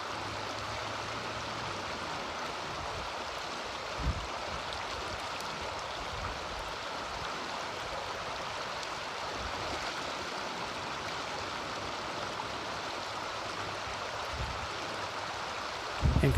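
A river stream flows steadily while a gold trap sits in its riffles during gold prospecting, a continuous broadband rush of water with a couple of faint thumps, no talking.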